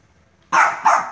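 A dog in the Minecraft video game barks twice in quick succession, loud and close after a moment of near silence.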